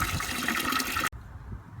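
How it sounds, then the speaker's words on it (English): Water pours steadily from a stainless pipe into jugs, a loud continuous gushing rush that cuts off abruptly, leaving a faint quiet background. "Just constantly flows out of that stainless pipe, and fill your jugs up."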